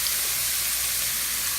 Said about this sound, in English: avocado oil in the frying pan here